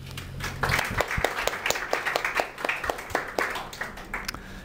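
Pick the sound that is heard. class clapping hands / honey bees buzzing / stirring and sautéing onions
class clapping hands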